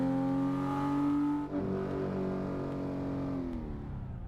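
Porsche 911 GT3 engine in the Assetto Corsa racing game revving steadily with strong harmonic tone, dipping briefly as it shifts, then climbing again and easing off near the end, loud and close with no talk.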